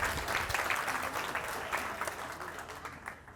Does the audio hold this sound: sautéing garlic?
no